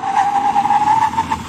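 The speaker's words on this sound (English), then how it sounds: "full emergency stop now." An Audi RS3 makes a full emergency stop from 60 mph, with a loud, sustained tyre squeal and a steady droning tone under road and engine noise.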